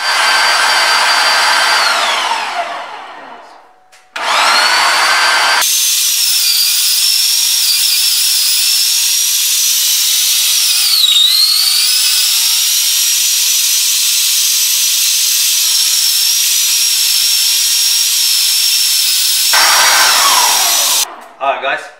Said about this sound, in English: Now I'm going to go ahead and grind it all up.